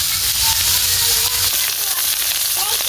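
Carrots, radish and capsicum fry in oil in a pan, giving a steady close sizzle and crackle throughout, with faint background sounds.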